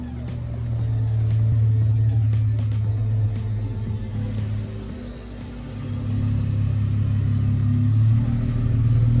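Jeep engine rumbling as it is driven around a corner, a low steady drone that swells, dips in the middle and rises again, close by with faint ticks above.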